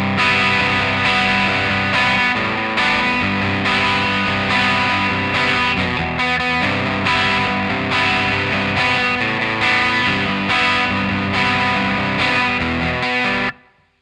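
A distorted electric guitar plays the opening verse of a song, a steady loud wall of repeated strummed chords that continues for the whole passage and then cuts off abruptly at the end.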